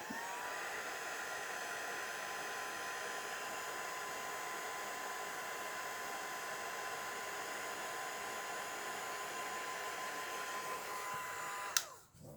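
A hair dryer dries alcohol ink in a steady, even blowing whoosh with a constant motor whine. It runs close and unbroken for about twelve seconds, then cuts off abruptly with a click.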